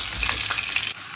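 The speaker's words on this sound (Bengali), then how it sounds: "আমগুলো নুন হলুদ দিয়ে ভাজবো" Mangoes frying with salt and turmeric in a small kadai give a steady, close sizzle with a few soft stirring scrapes and no talking.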